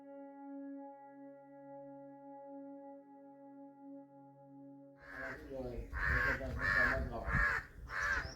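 At a hillside ashram, a steady sustained tone fades out and gives way to a crow cawing loudly several times in a rhythmic run of harsh calls, heard close and clear.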